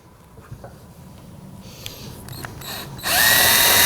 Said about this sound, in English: I'm going to shift my drill out to about a 45-degree angle.